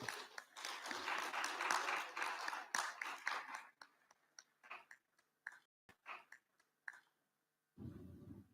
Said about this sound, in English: please give a thundering round of applause for our wonderful speaker